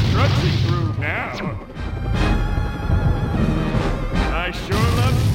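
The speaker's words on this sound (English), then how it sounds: "I sure love smashing things up." A giant Plankton monster smashes through scenery in a SpongeBob video game, with loud repeated crashes and thwacks mixed with rumbling impacts, while character voices talk over the destruction.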